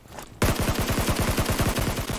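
Rapid automatic gunfire in the mobile battle-royale game Peacekeeper Elite, starting abruptly after a brief quiet and continuing as a loud, close, evenly spaced stream of shots with no talk.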